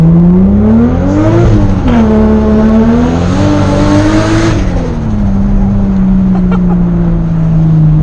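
A turbocharged Toyota Supra making over 500 wheel horsepower accelerates hard, its engine note very loud and close, climbing through revs, dipping at a shift and climbing again before settling into a steady drone.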